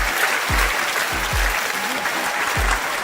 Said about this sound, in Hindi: बस जोर से ताली बजाओ भाई।